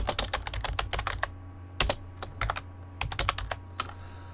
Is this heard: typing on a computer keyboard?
yes